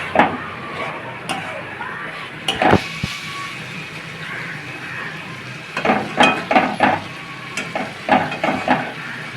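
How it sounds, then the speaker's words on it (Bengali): Potatoes and snails being stirred and sautéed in a spice masala in a village kitchen, with a steady sizzle under scraping spoon strokes and a cluster of sharp clatters near the end. "আলুটা দিয়ে দিলাম, আলুটা দিয়ে আরও একবার কষে নেবো ভালোভাবে"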